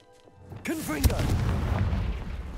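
A Confringo fire spell is cast in Hogwarts Legacy, a wizarding video game, producing a sudden explosive burst and a sharp crack followed by a sustained booming rumble, with a voice shouting alongside.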